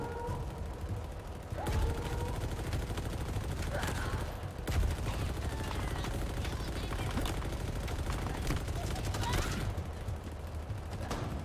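Turret gunfire in Halo Infinite rattles in sustained rapid bursts, loud and continuous, with voices talking over the shooting.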